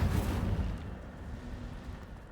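A fire spell cast in Hogwarts Legacy bursts out with a deep, rumbling whoosh that swells at once and then fades into a low, lingering roar.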